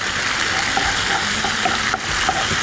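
Sliced onions and ginger garlic paste sizzle steadily in hot oil for a jowar pulao, a dense, close frying hiss with faint scraping of a spoon in the pan and no voices.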